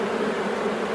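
A dense, steady hum of honeybees buzzing and fanning to call the colony back at a hive, filling the short moment with a close, even drone and no voices.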